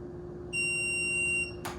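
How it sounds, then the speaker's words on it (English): A single long electronic beep from a Hansshow power car trunk control, high and steady, sounds for about a second over a low hum, followed by a short burst of noise. "You hold this down until you hear that long beep."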